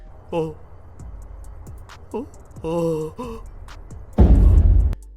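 Onlookers in an anime scene let out several short, sharp gasps and startled vocal exclamations in quick succession, followed by a louder burst of breathy crowd reaction.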